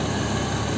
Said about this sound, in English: Yeah, this is the engine.